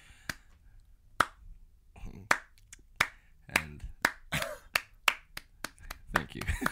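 A few people clap sparsely and irregularly, sharp single hand claps spaced out at first, then coming a little faster; quiet and close in a hushed room.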